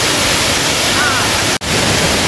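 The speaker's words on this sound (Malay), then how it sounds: "Inilah air terjunnya." Steady roar of the waterfall at Jangkar in Lundu, Sarawak, a dense broadband rush filling the scene, briefly cut by a momentary dropout.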